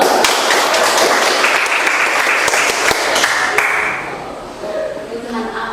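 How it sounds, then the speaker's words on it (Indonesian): A classroom of students claps together in a dense, loud burst of applause that holds for several seconds, then thins out and fades as a voice resumes. "Oke, mari kita tepuk tangan dulu."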